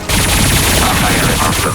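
Rapid automatic gunfire from the Mass Effect video game, a dense, loud, continuous burst of shots that fills the whole moment.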